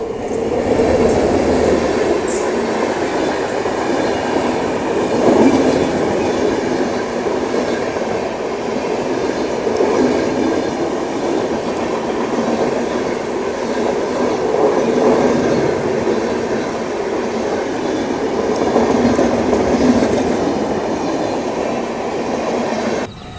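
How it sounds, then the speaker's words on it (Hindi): An Indian Railways train runs steadily with a continuous rumble of wheels and carriages, while a Jan Shatabdi express between Bhubaneswar and Howrah is about to cross; the noise is loud and close, with faint rail clatter and no speech. "कुछ ही देर में अपने साथ क्रॉसिंग होने वाला है ट्रेन नंबर 12074 यानी भुवनेश्वर को हावड़ा के साथ कनेक्ट करने वाली इंडियन रेलवेज की 4th फास्टेस्ट जनशताब्दी"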